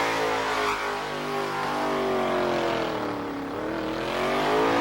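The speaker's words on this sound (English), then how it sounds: "That is one strong little engine in that car and doing a real fine job down on the donut pad." A small, strong car engine runs hard on a donut pad at Summernats, sustained and loud, its tone rising and falling as it holds revs through the spins, with tyre noise mixed in.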